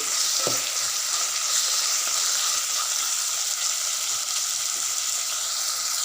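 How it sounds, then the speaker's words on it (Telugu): Curry leaves and ginger-green chilli paste fry in hot oil in a pan, a loud, continuous close-up sizzle with faint stirring, steady from start to finish and no talking. "రెండు గంటల కరివేపాకు ఒక స్పూన్ అల్లమిరపాయ పేస్ట్ వేసి అల్లమిరపాయ పేస్ట్ పచ్చి వాసన మగ్గం ఇవ్వాలండి"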